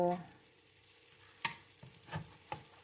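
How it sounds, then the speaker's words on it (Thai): Pork belly sizzles quietly as it is stir-fried in a pan over raised heat, with a few sharp spatula clacks and scrapes over the faint frying and a brief voice at the start. "นี่เราก็ลวนหมูเสร็จเรียบร้อยแล้วนะคะ แล้วก็เปิดเปิดไฟให้มันเร่งนิดนึง"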